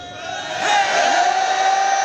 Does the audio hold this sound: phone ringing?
no